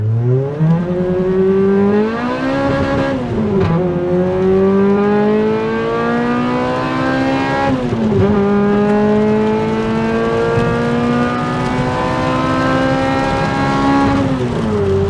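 A Toyota 2ZZ 1.8-litre engine in a Toyota Celica revs hard and steadily, pitch climbing in long sweeps with brief dips between pulls, loud and close throughout.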